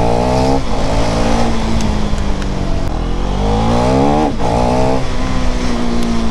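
A motorbike engine revs and pulls away, its pitch climbing and dropping in repeated sweeps as it rides off, loud and close throughout.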